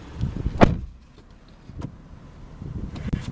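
A single solid thump as the car door of a 2014 Lexus IS250 AWD swings shut up close, followed by quieter cabin rustles and a couple of soft clicks.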